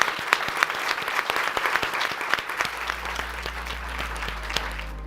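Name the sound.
audience applause at a convention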